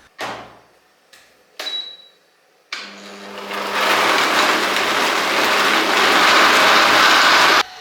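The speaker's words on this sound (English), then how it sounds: "Next, simply blend it until it's smooth." A blender whirs on for fresh coconut and water, first a few short knocks and brief pulses, then a loud, steady grinding roar that holds for several seconds.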